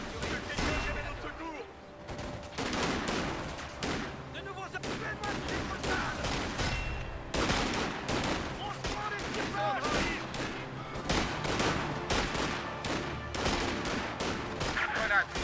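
Dense, continuous gunfire and heavy German artillery booms from the video game Company of Heroes 2: Ardennes Assault, rapid bursts overlapping with deep blasts throughout.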